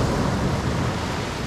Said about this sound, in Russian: есть как и большие красивые волны